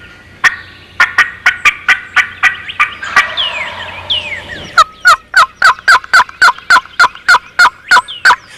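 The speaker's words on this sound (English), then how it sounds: "You can try to keep the gobbler sounding off to determine the direction the group is headed." A wild turkey gobbler gobbles again and again in sharp, rapid bursts, loud and close, with a faint fluttering call between the runs and no voices.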